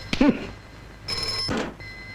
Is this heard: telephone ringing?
yes